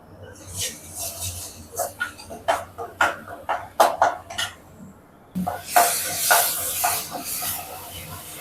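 Onions and spices sauté in oil for a ground-masala fish curry, with repeated hissing sizzles and stirring scrapes, then a louder, steadier frying hiss; someone speaks throughout.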